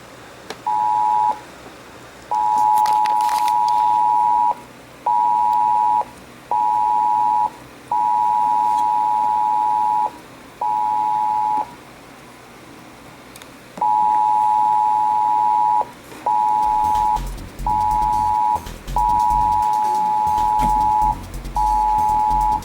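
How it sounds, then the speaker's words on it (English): Emergency alert attention tones from a Trilithic EASyIPTV system sound as a steady mid-pitched beep in repeated bursts of uneven length with short gaps, clear and close, with a low rumble and crackle joining near the end. "Doing a little bit of attention tones here."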